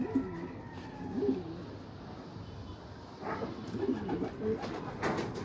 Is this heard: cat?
no